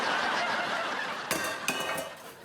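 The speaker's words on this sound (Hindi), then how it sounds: "तुम बर्तन साफ करते हुए टॉम क्रूज से भी ज्यादा हैंडसम लग रहे हो।" Dishes and pots being washed in a home kitchen, a steady clattering wash of water and utensils with two sharper clinks of pots knocking together near the end, fairly close.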